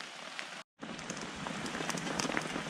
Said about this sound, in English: Lovely rainy day.